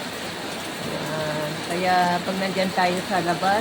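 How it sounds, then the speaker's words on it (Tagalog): Heavy rain falls outside in a sudden downpour, a steady hiss under a person talking close by. "ayan, oh, ang lakas ng ulan"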